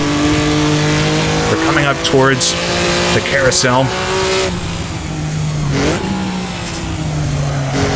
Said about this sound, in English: come to the top of the hill, really revved it out there.